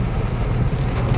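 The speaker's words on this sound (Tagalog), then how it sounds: "inaabot tayo ng ulan" Heavy rain drums steadily on a moving vehicle during a drive near the Balagtas bypass toward Baliwag, a loud, dense, unbroken wash with low road rumble underneath.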